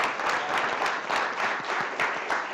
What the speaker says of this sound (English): big round of applause, please, for Joseph Hayes